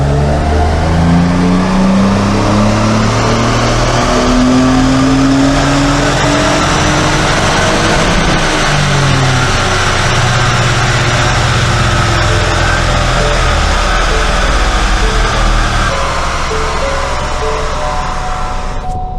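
A Ford Fiesta ST EcoBoost strains at full throttle on a dyno with the bonnet shut in third gear, a loud steady engine roar climbing in pitch across the run and holding near and constant throughout.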